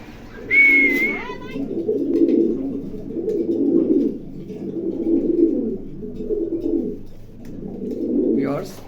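Racing pigeons in a loft coo in low, repeated rolling calls, close by, with a brief higher whistle-like sound near the start.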